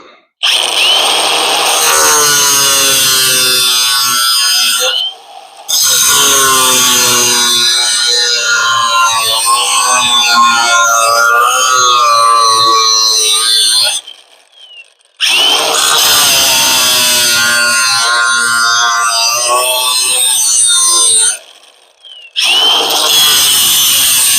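A power saw trims wood for a cabinet corner mock-up, running in long loud whining bursts with two clean pauses between cuts, close and continuous during each pass, no talk.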